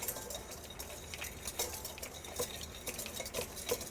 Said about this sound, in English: where's my whisk? It's right here. Give that a blend.